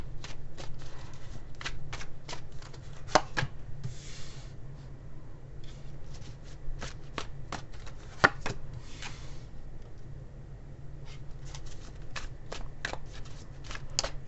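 Tarot cards shuffled by hand in quick, crisp riffling bursts and flicks, close and fairly quiet over a low steady hum, with no talking.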